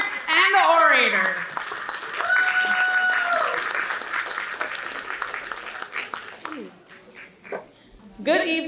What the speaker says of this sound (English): Let's give them both a round of applause, the writer and the orator